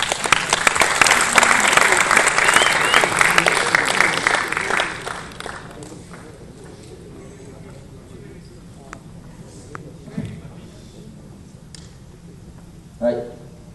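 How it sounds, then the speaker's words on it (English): An audience at a school engineering presentation applauds loudly for about five seconds, then the clapping thins out and fades into quiet room noise with a few scattered sounds. "please give them a round of applause"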